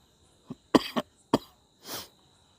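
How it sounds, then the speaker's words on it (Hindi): A few short coughs in quick succession, then a softer throat-clearing cough, close and alone with no talk. "थोड़ा सा खांसी आ रही है।"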